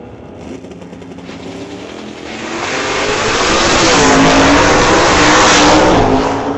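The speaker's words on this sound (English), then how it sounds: "We got a race, top end of the racetrack." Race cars in a bracket drag race at a racetrack, a loud engine roar that swells and holds at full volume, with no talk over it.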